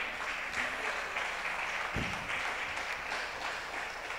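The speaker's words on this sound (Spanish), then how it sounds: "¿Cuántos dan un aplauso al Señor?" Church congregation applauding for the Lord during a Spanish-language sermon, a steady wash of many hands clapping that holds evenly throughout, with a brief low thump near the middle.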